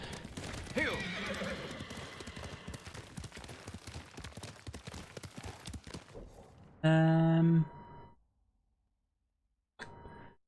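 Horse hooves clip-clop steadily for several seconds in the video game Ghost of Tsushima, then a loud, clear whinny rings out, followed by silence and a brief final sound.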